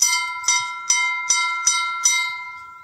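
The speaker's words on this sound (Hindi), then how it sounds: "वे थोड़ा घंटी भी बजा देते हैं।" A metal bell at a Krishna temple in a centuries-old royal durbar square in Nepal is struck six times in a steady rhythm, each bright clang ringing on with a sustained tone, close and clear.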